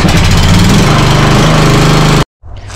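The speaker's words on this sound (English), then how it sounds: "I mean, it's a lawnmower, nothing too special." A lawn mower engine runs loud and close with a steady, rough drone, then cuts out abruptly, leaving a brief silence before faint low rumbling returns.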